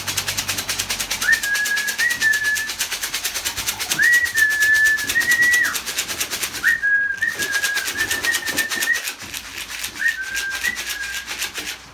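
Racing pigeons in a loft with young birds, giving four separate drawn-out tonal calls spaced a few seconds apart over a soft, steady background hiss.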